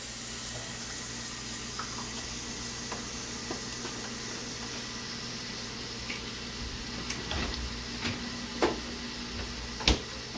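Garlic and onion sautéing in a pan for pasta primavera, a steady low sizzle with occasional utensil taps and scrapes growing sharper toward the end, no speech.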